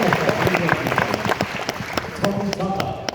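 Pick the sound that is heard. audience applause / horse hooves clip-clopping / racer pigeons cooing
audience applause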